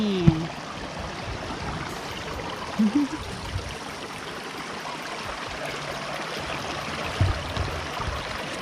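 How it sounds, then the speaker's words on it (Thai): Water flows and trickles steadily along a stream, a constant close rushing wash with a few brief knocks and splashes. "น้ำไหล"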